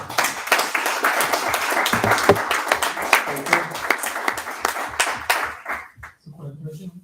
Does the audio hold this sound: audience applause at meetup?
yes